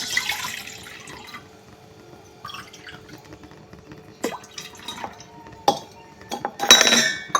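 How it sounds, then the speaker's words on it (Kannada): Two cups of water tipped into a cooking pot in a home kitchen, with short splashing bursts toward the end among scattered clinks of utensils and faint drips in a quiet room. "ಅದಕ್ಕೆ ನೋಡಿರಿ 2 ವಾಟೆ ನೀರು ಹಾಕ್ತೀನಿ"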